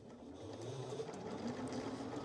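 A sewing machine stitches a dress lining with a quiet, steady mechanical hum and faint rapid needle rhythm, close by and alone.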